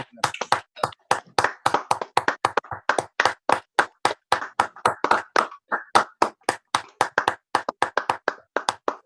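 Applause at a law lecture, a single pair of hands clapping nearby in a quick, steady rhythm of distinct sharp claps with nothing else behind them.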